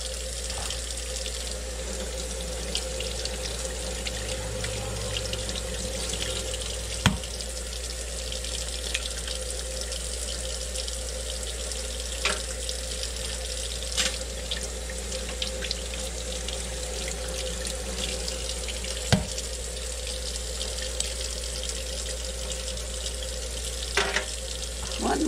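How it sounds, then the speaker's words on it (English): Steady running water from a kitchen sink tap pours continuously while dirty, muddy eggs are rinsed under it, with occasional faint knocks and clinks close by. "I don't wash my eggs, I have to wash them off before I use them"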